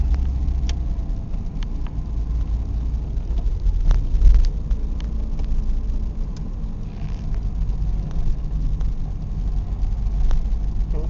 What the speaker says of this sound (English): Okay, there's our final cold start. Our final automotive cold start.